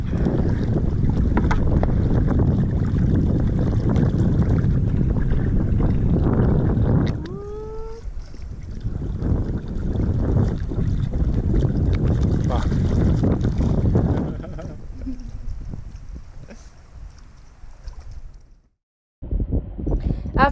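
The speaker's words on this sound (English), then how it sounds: "I drove Jarne's little Zodiac while he fished for something" A small Zodiac inflatable boat motors steadily over open water while trawling, its outboard drone mixed with wind buffeting and water rush, loud and close, easing off near the end before cutting out briefly; a voice speaks over it.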